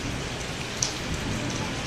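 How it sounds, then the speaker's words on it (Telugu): Steady rain falls outside a home, a constant soft hiss of drops on surfaces with an occasional sharper patter, moderately close and unbroken. "వర్షం కూడా పడుతుంది."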